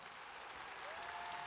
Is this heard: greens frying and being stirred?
no